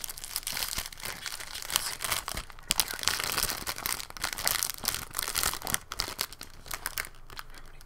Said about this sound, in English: Crinkly crinkle box here for you.